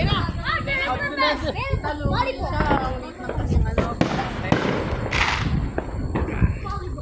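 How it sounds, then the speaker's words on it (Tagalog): Holiday fireworks in Houston, Texas crackle and pop repeatedly, some sharp bangs near, others distant, while people chatter and call out nearby. "Ayan, ang ganda ng mga fireworks ngayon."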